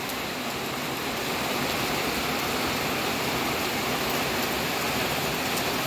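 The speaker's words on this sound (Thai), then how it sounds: "ฝนตกลินแบบนั้น" Heavy rain pours steadily and densely at a garden house beside a pond, a continuous loud hiss with no pauses and no voices.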